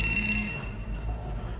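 A phone rings in a scene from the 2022 film The Batman, a steady electronic tone with sustained high notes over a low hum, heard loud and continuous through the whole short stretch without voices.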